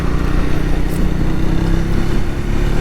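Triumph Speed 400 motorcycle being ridden on a city road, its engine droning steadily and loud throughout with a smooth, constant tone and no audible talk.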